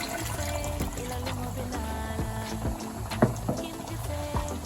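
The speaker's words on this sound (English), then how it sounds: "we are going to go on and add just that much water in it" Water poured into a pot of lamb stew (chew yapa), with a steady liquid splash running throughout over a busy, harmonic kitchen background.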